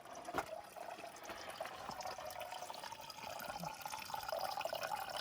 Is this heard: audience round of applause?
no